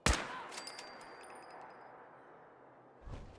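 A gunshot in Fallout 4 cracks out sharply at the start and rings off with a fading metallic tail, followed by a second softer shot or thump near the end.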